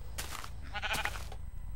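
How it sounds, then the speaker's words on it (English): Sheep bleating in the Minecraft video game, a short wavering game-sound bleat standing out over a steady low background rumble, heard once and fairly close with no talk. "Hey, a black sheep."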